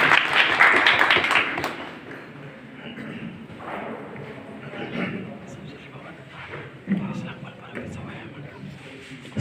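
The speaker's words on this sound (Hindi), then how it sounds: "तालियां।" Applause at a farewell party for retiring colleagues in Karachi, a burst of clapping at first that fades into scattered claps while people talk over it.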